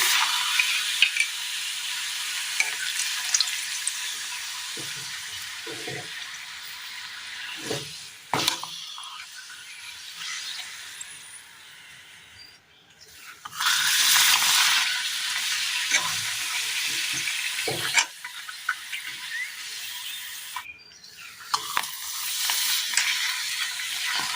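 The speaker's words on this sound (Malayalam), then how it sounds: "ചൂടായ എണ്ണയിലേക്ക് പപ്പടം ഇട്ട് കൊടുക്കാം" Papadums fry in hot oil in a small pan for a Kerala dish, giving a loud, continuous crackling sizzle up close, with a few brief bursts and dips as they are turned and stirred.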